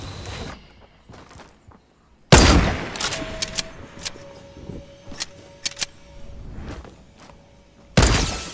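Gunfire in the Fortnite video game, a loud opening blast followed by scattered sharp shots and clicks of varying strength and a second heavy burst at the end, with no talking.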